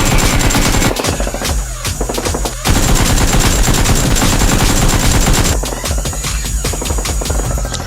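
Rapid bursts of toy gunfire in a superhero-themed Nerf war form dense, loud, continuous clatter. Short gaps break the rattling volleys, which sound like machine-gun fire.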